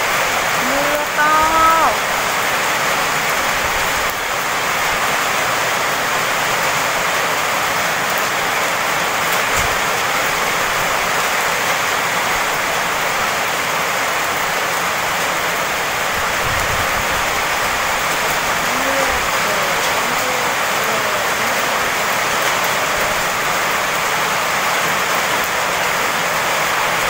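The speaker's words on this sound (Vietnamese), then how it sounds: "Trời mưa to rồi." Heavy rain falls outdoors on a farm in a steady, loud, continuous hiss and patter throughout, with a voice speaking briefly under the downpour.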